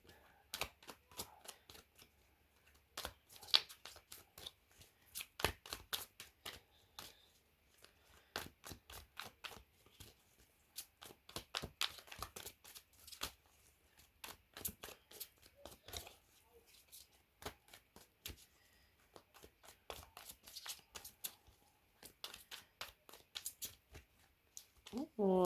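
Cards riffle and shuffle repeatedly in quick crisp bursts, close up, with brief pauses between shuffles.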